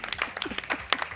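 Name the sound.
applause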